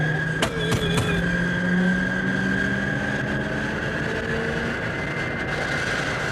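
An old American car's engine drones steadily while driving, a loud continuous rumble with a sustained tonal whine and a couple of sharp knocks early on.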